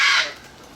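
A single loud, harsh bird call bursts close by and cuts off within a fraction of a second, followed by quiet background hiss.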